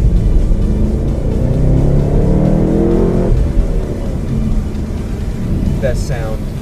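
The 6.2-liter V8 in a 2015 Chevy SS sedan, revving hard and close with a rising, roaring engine note that builds for several seconds, then drops to a lower rumble, with voices heard near the end.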